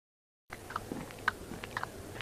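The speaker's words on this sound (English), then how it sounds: "I chew grass." An animal chewing grass in a cool green field, with soft crunchy bites repeating irregularly, close and fairly quiet, with no talking.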